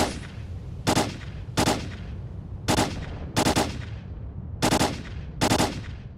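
Gunshots in the video game Stalker: Call of Pripyat on PS5, six sharp, loud bursts spaced about a second apart, each decaying quickly over a steady low background.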